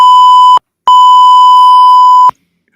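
Loud, pure electronic beeps set off from a Stream Deck: a short tone, a brief gap, then a longer sustained beep that stops abruptly, followed by silence.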